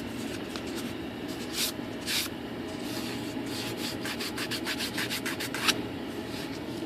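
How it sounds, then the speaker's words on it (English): An air compressor nozzle blows air onto a part of an Airbus A380 scale model's rudder, making a continuous close hiss broken by short rapid bursts of rushing, scuffing noise. "Try to use the air compressor there."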